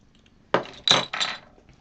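A bottle of Courage Directors Ale is opened up close: a quiet lead-in, then a sharp cap snap followed by two short fizzy, clinking bursts, with no talking.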